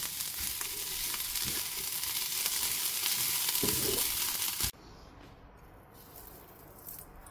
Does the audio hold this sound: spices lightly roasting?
yes